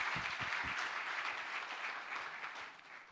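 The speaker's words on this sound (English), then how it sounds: "Please give them a round of applause." At the launch of the Africa Gender Initiative, an audience applauds in a dense, sustained wash of many hands clapping, moderately distant and fading slightly toward the end.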